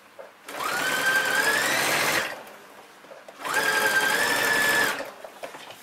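Sewing machine stitching a ladies' skirt back panel, running in two steady bursts of roughly two seconds each, with a short pause between and a whirring, buzzing motor tone throughout.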